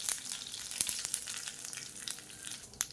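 Mustard seeds, cumin, urad dal and two dried red chillies frying in hot oil for a South Indian tempering, a steady close sizzle with scattered sharp pops and crackles throughout.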